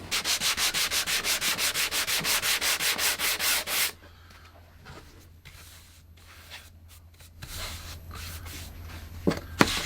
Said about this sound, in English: just a quick pass with 120 grit sandpaper to make the piece somewhat presentable